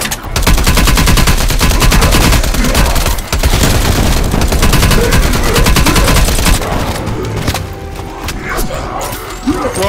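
Rapid automatic gunfire in Call of Duty: Black Ops Cold War, a loud, dense burst of shots and booms lasting most of the stretch before easing into a quieter tail.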